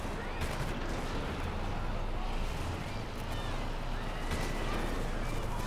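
Gunfire in the video game Prototype, with zombies around, rattles on as a dense, unbroken barrage of shots and blasts, loud and steady throughout with no pauses.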